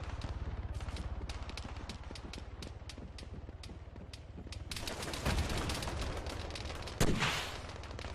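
In an Arma 3 battle, RPG rockets are fired at an incoming enemy helicopter. Two heavy, booming blasts punch through a constant rapid rattle of distant gunfire.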